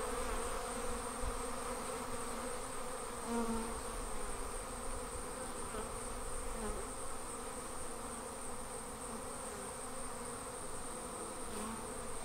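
Honey bees swarming out of an observation hive make a dense, continuous buzzing hum that holds steady and fairly close throughout, with no talking.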